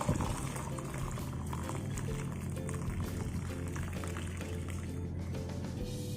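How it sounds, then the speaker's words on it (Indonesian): Hot vinegar broth (cuko) for pempek is poured through a strainer in a steady, continuous rush of splashing liquid that stays loud and close throughout, with no talking. "Nah, kemudian air cukanya ini panas-panas kita saring"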